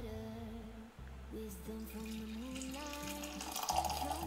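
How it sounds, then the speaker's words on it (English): Cacao drink, about 20 grams of cacao in 250 ml of water, poured from high up into a cup, giving a soft continuous splashing, bubbling stream that grows slightly louder near the end, with no talk. "Pouring all fancy and high up so that I can see if I can get some rainbow bubbles in my cacao."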